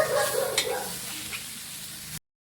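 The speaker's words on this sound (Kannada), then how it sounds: "ಈರುಳ್ಳಿ ಅದೆಲ್ಲ ಹುರ್ಕೊಳ್ಕತ್ತೀನಿ" Onions and spices sizzle in a pan as the base for a guava chutney. The frying hiss is soft and even, then stops abruptly.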